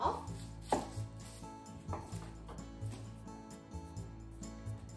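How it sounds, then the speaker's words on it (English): An onion is cut on a cutting board for katsudon prep, with a few sharp knife chops at an uneven pace, close and clear over a faint kitchen background with some low dog-like whimpers. "So onion, cut the top"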